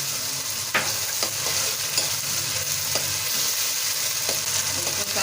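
Onion-tomato masala frying over high heat as ginger garlic paste goes in for a dhaba-style mash ki daal, a steady close sizzle with scattered scraping clicks from stirring, no voices.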